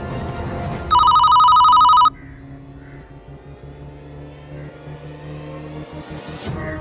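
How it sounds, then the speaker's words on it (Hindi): A telephone bell rings in one loud, shrill burst of about a second, then stops, leaving quieter engine-like rumble and background noise. "फोन आ रहा है आपका"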